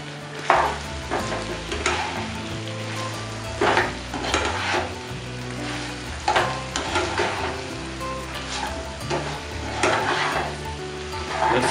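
A mixture with mint and coriander sizzles steadily in a pan while a spoon stirs it, giving repeated clinks and scrapes against the metal over a continuous close hiss.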